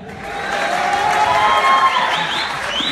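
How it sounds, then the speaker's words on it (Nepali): Audience applause and cheering at a Nepali comedy show, a steady, dense wash of clapping from a crowd that holds for the whole stretch without talk. "केटाहरूलाई मन पऱ्यो भने ताली पड्काउनुहोस् के"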